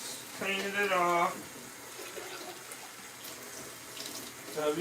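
Rice is rinsed under a running kitchen tap, a steady close rush of water over the grains that swells briefly near the start and again at the end, with a short voiced sound early on.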